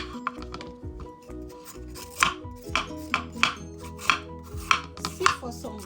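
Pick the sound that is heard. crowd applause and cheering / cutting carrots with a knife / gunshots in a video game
cutting carrots with a knife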